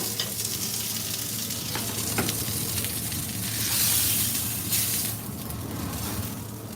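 Fish and coconut milk sizzling in a pan as the coconut milk reduces: a loud, continuous close-up frying hiss with occasional crackles and stirring scrapes.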